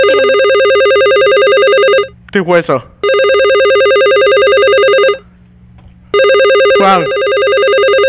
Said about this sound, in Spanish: eso es un, un teléfono.